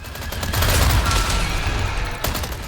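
Rapid automatic gunfire from the Chicago Sweeper in Resident Evil 4 Remake, a loud dense burst that runs almost the whole time indoors in a castle room, with no talk over it.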